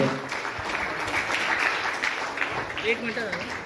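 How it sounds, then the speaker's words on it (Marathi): Audience applause at an award ceremony, a dense, steady wash of clapping from a large crowd held at an even level throughout, with faint voices mixed in underneath. "जोरदार टाळ्या झाल्या पाहिजे।"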